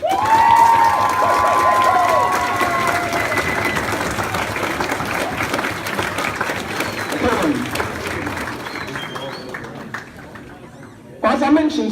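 A graduation audience claps and cheers loudly for the staff, a dense sustained wave of applause with shouts and whoops that slowly thins out before a brief burst near the end.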